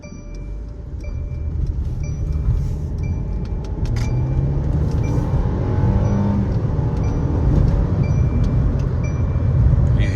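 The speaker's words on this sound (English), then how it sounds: "You hear that turbo?" A turbocharged 400 hp Mercedes W205 driving through city streets, heard from inside the car as a loud steady engine drone that swells and rises while accelerating, with faint clinks and rattles over it.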